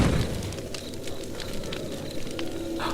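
Wood burning in a brazier lit to warm a sick old woman, a steady crackling and hissing fire heard close and alone, with a few faint pops scattered through it.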